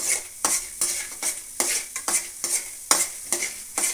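Mustard seeds crackle while chana dal fries in a pan for an okra stir-fry, heard as a close, quick, rhythmic run of scraping, sizzling bursts with no talk.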